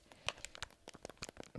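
Crinkling crisp packet handled up close for ASMR, a run of sharp crackles and crunchy rustles in quick irregular bursts, soft and intimate with no voice.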